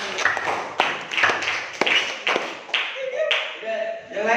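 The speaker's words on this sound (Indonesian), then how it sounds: "Tepuk tangan buat Mbak Aira yang berani" Classmates clap together in short uneven bursts for a student who volunteered, the hand-claps landing close and moderately loud with a teacher's voice talking over and between them.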